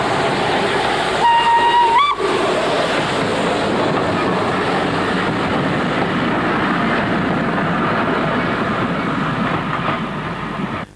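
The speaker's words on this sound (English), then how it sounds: "One of the railway's smaller locomotives, J72 number 69023, draws a short train past the New Bridge site." LNER J72 steam locomotive 69023 hauls a short train past New Bridge on a North Yorkshire moorland railway, a brief whistle at first, then a steady loud rumble of wheels and carriages passing close.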